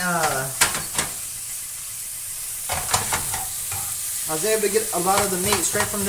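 Abdomen meat roasting in a pan, giving a steady crackling sizzle with occasional pops, heard under someone talking.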